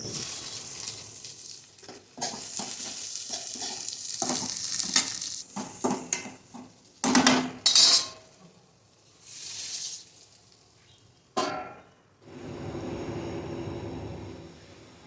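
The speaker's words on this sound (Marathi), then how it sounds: "कांदा टोमॅटो असं सगळं घालून परतून घेणार आहे" Onion, tomato and garlic sautéing in a pan for cluster bean curry: intermittent stirring scrapes and clatter over a soft sizzle, in uneven bursts with quiet gaps, ending in a steadier low hiss, no voices.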